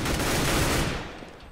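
Dense burst of video game gunfire in Counter-Strike on de_inferno, loud overlapping shots for about a second before fading.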